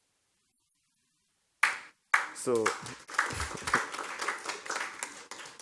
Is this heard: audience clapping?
yes